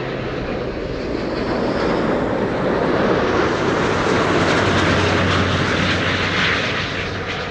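Qatar Airways Airbus A350 arriving at Amsterdam Schiphol, a loud broad jet roar that swells as it passes close overhead and stays strong throughout, with no voices.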